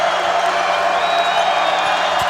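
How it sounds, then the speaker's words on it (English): A basketball arena crowd at the Thomas Assembly Center roars steadily, a loud, dense, unbroken wash of cheering with no gaps. "Fans up on their feet at the TAC, the Thomas Assembly Center. See if the Gales can quiet this crowd."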